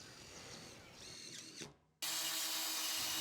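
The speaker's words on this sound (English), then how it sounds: "we had to pre-drill and then do the screwing." A power drill bores and drives screws into Bison cement panels, running with a steady whine that rises, cuts off briefly and then resumes at full, loud, constant speed.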